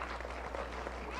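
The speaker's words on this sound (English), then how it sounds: "Big round of applause for Vince and Larry." Audience applause at a 1992 Sesame Street fire safety stage show, a short burst of clapping from the crowd with some talk mixed underneath.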